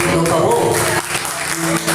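A church congregation claps in response to a call to raise hands and applaud Jesus during a sermon, with sustained dense clapping mixed with voices and tonal music or organ underneath.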